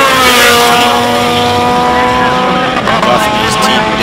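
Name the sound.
race car at Simola hillclimb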